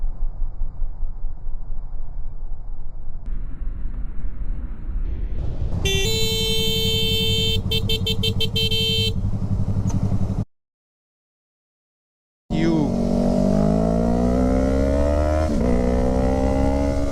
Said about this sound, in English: his ego got hurt when the biker honked at him